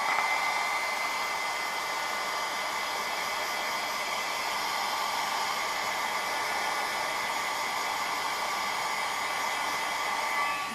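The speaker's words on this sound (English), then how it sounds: "So I'm going to hit this with my heat tool real quick" A heat tool blows hot air over a handmade card, a steady, close, even whooshing hiss like a hair dryer, running alone without pause for the whole stretch.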